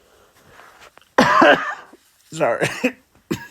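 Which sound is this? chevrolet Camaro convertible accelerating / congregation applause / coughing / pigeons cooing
coughing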